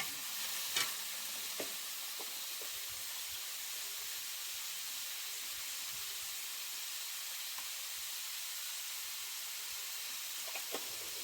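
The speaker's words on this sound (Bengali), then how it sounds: "সব রকম সবজিগুলো দিয়ে একটু ভেজে নিলাম।" Mixed vegetables fry in a pan for a village-style shukto, producing a steady, fairly quiet hiss with occasional clicks and taps from a stirring spoon.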